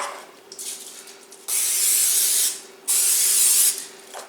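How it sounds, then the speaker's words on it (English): Two long bursts of hissing cooking spray onto a waffle iron, close and loud, separated by a brief pause. "I probably don't have to spray this every time"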